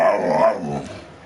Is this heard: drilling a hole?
no